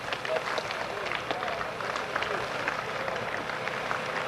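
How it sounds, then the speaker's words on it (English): Audience applause for a drag racer at York Raceway, August 1989: a broad, continuous crowd clatter of many hands, steady and moderately loud, with talking mixed into the noise. "Give him a nice big round of applause."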